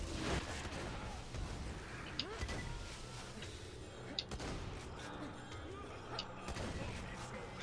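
Explosive gunfire in the game Borderlands 2 in the town of Lynchwood: a few sharp shot bursts with blasts in a dense, busy game mix, heard under a player talking.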